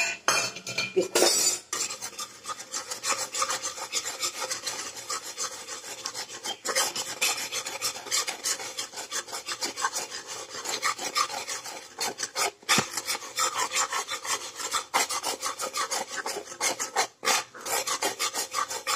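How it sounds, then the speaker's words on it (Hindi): Besan and semolina roasting in ghee in a pan, stirred continuously with a utensil that rasps and scrapes steadily against the metal for the whole stretch, close and fairly loud, with no talk. "अब हम बेसन और सूजी को घी में डाल, पहले हम इसको रोस्ट करेंगे"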